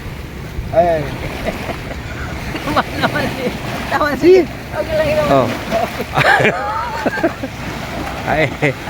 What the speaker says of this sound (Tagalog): yung dagat tumataas na, nagha-high tide na